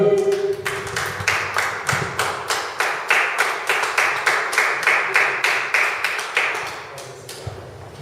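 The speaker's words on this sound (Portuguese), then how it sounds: "Aplauda ao Senhor." Church congregation clapping along in a steady, even rhythm for several seconds, many hands together at moderate distance, with a faint voice underneath.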